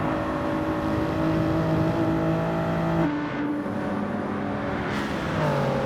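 Race cars accelerating uphill in a racing video game league, loud sustained engine drone with rising pitch and a gear shift midway, several cars close together throughout.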